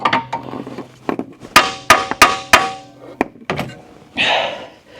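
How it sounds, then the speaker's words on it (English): A sledgehammer hits a seized front control arm frozen into the steering knuckle of a Tesla Model S, with a series of sharp metallic clanks at irregular spacing, some ringing briefly, followed by a short scraping rustle at the end. "Whew, I need a bigger sledge, I think, for this"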